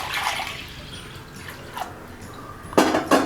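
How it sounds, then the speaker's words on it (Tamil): Water is added to a pan of washed dal, a faint trickle that becomes a short, louder splashing pour near the end. "தேவையான அளவுக்கு தண்ணி சேர்த்துக்கலாம்."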